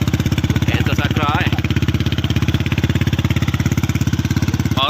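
A Yamaha R15 V3 motorcycle fitted with an Akrapovic full-system exhaust and silencer idles nearby. It makes a loud, steady, rapidly pulsing engine beat, and a brief voice is heard over it.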